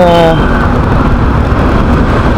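Road traffic on EDSA in Mandaluyong on a light Saturday, a loud continuous wash of passing vehicles close by, with a short tonal hum at the start before settling into steady roadway rumble.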